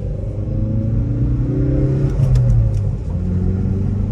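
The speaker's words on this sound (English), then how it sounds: "A little turbo engine sounds good." A Hyundai Veloster N turbo engine revs from inside the moving car, a steady mid-pitched growl that swells and eases, with faint turbo hiss and road rumble underneath.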